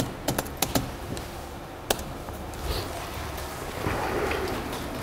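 Quick keystrokes on a computer keyboard typing into a browser, a handful of sharp clicks clustered early and one later, faint against a soft background hiss.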